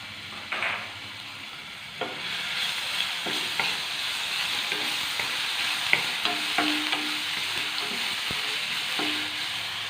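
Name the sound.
crushed ginger and garlic sizzling in hot oil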